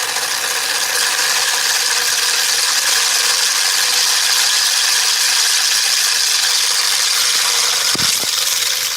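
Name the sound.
counter-spinning magnetic discs whirring over wire coils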